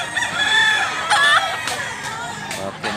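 A two-year-old Sweater gamefowl rooster in Mantalungon, Cebu crows in a single drawn-out call, loud and close, with faint background noise around it.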